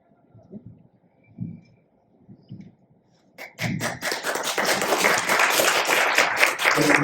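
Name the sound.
audience applause at a panel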